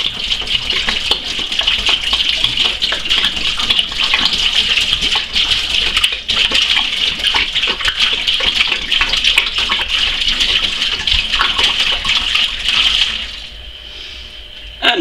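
Diluted bleach solution pours from a glass demijohn into a sink in a loud, steady gush of splashing water that runs for several seconds before cutting off, heard close with no speech.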